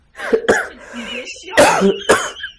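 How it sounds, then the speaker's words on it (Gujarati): Several sharp coughs and throat-clearing bursts come in quick pairs, close and loud, mixed in with a person's talking. "જોને આ ઉધરા પોરો નથી ખાતી"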